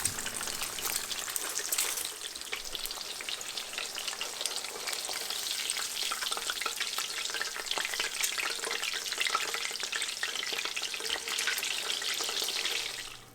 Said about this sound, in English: We're just going to dump the eggs right into that super hot oil.